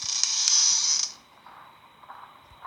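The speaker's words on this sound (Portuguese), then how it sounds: "Você fecha a porta." A door creaks shut in the horror video game Five Nights at Freddy's 4: a loud, sustained high creak for about a second that ends abruptly, followed by faint room tone.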